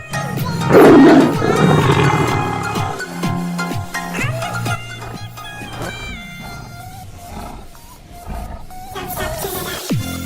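A tiger roars loudly and up close, a long, rough, rumbling roar that swells early and then trails off over a sustained growl, with no talking.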